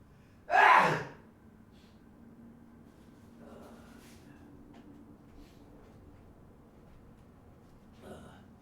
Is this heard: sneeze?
yes